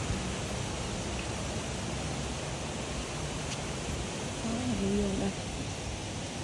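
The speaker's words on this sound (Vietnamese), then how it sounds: "cái cảnh nước chảy" A forest stream in Phu Quoc, Vietnam, with water running over rocks gives a steady, broad rushing wash throughout, close and even in level, with no talk.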